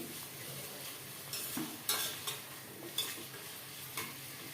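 About 300 grams of washed mutton sizzles in hot oil while a spoon stirs and scrapes the pan, giving repeated scraping bursts over a constant frying hiss.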